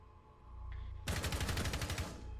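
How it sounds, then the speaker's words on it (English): Rapid automatic gunfire in a video game bursts in loudly after a quieter stretch of background game noise, a fast stream of shots continuing for over a second before easing off. "What is Joe shooting at?"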